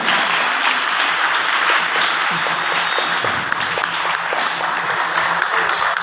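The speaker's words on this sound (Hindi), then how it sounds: "अब किस लिए ताली बजाई मुझे नहीं पता चला" Audience at a motivational leadership seminar claps continuously, a loud, even wall of applause with scattered sharper individual claps throughout.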